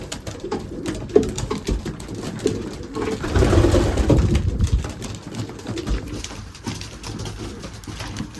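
Racing pigeons coo in a loft, low murmuring calls near and far, mixed with wing flutters, feet shuffling and a louder burst of flapping partway through.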